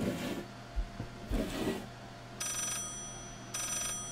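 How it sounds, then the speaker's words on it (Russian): Telephone ringing in the horror video game Layers of Fear, two short electronic ring bursts, faint and distant under footsteps and ambient noise. "Я слышу телефон"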